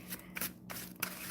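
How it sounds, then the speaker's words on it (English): Playing cards being shuffled by hand during a live stream: a few quick riffling, papery bursts close to the mic over a low steady hum, with no talking. "I'm still shuffling these cards"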